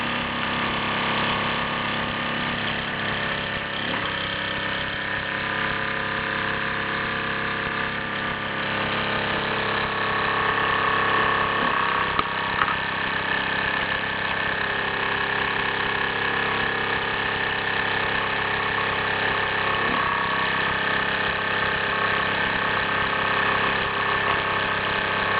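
A small Mamod MM2 model steam engine runs steadily on a Meccano angle girder base, giving a continuous close mechanical hiss and whirr that holds even for the whole stretch, with no talking.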